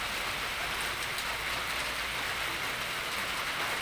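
Rain falls steadily on a farm on a rainy day, making a continuous, even hiss with no breaks.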